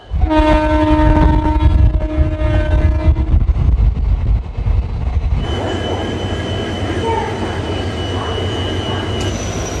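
A loud train horn blows for several seconds over heavy rumbling, then the steady roar and clatter of the passing Santragachi–Digha summer special passenger train (02897) continues, with a high squeal near the end.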